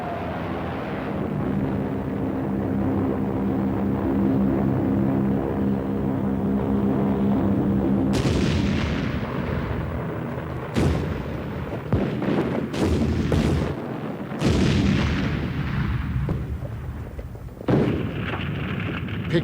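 Aerial bombs dropped by the Japanese Air Force on a civilian population burst in a series of loud, heavy booms after a steady droning hum, with several separate blasts and crackling debris following one another.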